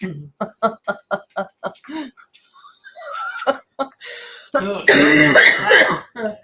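A woman coughs and clears her throat while ill, a quick run of sharp close coughs followed by softer throat clearing, then a burst of laughter and chatter from people nearby.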